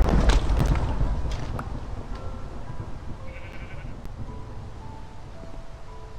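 Sheep bleating in the video game Minecraft, a few short bleats over a low continuous rumble and game background sounds, with no talking.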